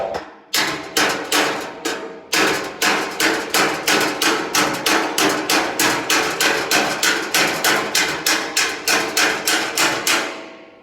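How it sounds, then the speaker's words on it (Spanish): A panel-beating hammer strikes sheet metal in a rapid, steady run of sharp metallic blows, close and loud, keeping an even rhythm after one brief pause near the start. "Para usar un martillo de tela."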